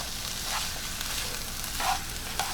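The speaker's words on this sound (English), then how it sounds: "Just gonna stir fry this up" Vegetables and mushrooms stir frying in a pan over medium-high heat, a steady close sizzle with a few soft scrapes of stirring, no voices.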